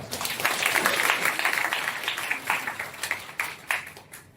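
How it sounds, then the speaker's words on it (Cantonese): Audience at a Hong Kong Oxfam Trailwalker sharing session applauding to welcome a speaker, a brief burst of dense clapping that thins out toward the end. "我哋熱烈嘅掌聲歡迎石 Sir"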